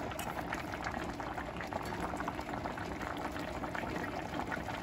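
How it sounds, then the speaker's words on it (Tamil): Biryani masala mixture with mushrooms bubbles steadily in a pot, a dense continuous crackle of boiling liquid, close and fairly quiet with no talking. "இது நல்லா கொதிச்சிட்ருக்குது."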